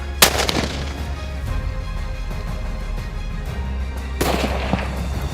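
Two loud, sharp rifle shots ring out on an African giraffe hunt, one near the start and another about four seconds later, with low rumbling outdoor noise between them.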